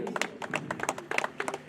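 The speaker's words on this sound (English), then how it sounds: "Don't stop your clap." A small group claps at a cricket prize ceremony, a brief burst of quick, uneven claps close by, with no talk over it.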